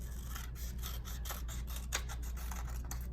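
Scissors snip through paper for a cow craft, making a quick series of close, crisp cuts over a low steady background hum.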